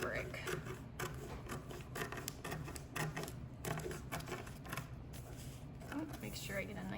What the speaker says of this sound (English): we'll just use regular scissors